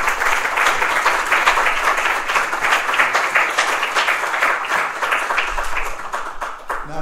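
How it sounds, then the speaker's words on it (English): Steady applause from a seated audience at a talk, thanking a guest. Dense, even clapping fills all seven seconds at a fairly loud level, easing off slightly near the end. "Can we have a round of applause for Gene?"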